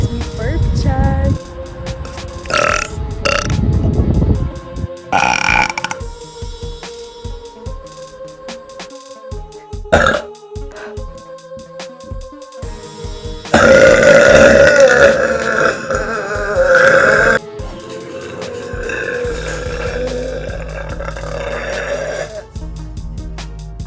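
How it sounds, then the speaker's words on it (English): A young woman burps repeatedly after eating apples, loud close belches of varied length rising from deep, rough croaks to longer drawn-out ones, separated by short pauses with some background sound. "eating apples makes me burp"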